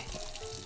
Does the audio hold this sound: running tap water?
yes